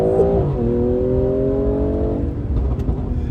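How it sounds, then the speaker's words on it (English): A BMW M340i with sport exhaust accelerates hard from 2000 RPM under full throttle, its engine note rising in pitch then holding a strong steady drone, loud and close from inside the car. "So here we go, 2000 RPM, foot down on the throttle."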